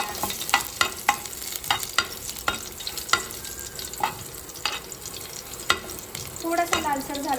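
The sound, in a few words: crushed garlic with skin stirred in hot oil with cumin, mustard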